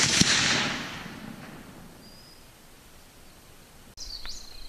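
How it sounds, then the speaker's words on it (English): A 45-70 rifle fires a Hornady 300 grain hollow point hand load at 100 yards: one loud, sharp crack opens, then a long fading outdoor decay, and a faint distant impact snaps near the end. "Gonna be shooting the Hornady 300 grain hollow point."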